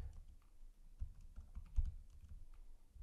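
Soft, quick keystrokes tapped on a computer keyboard while an email body is typed, irregular clicks close by in a quiet room, with no talking.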